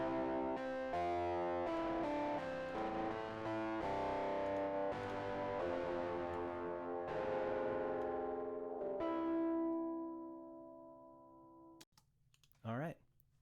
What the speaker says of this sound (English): this distortion being the last thing before the reverb and the tremolo has been turned off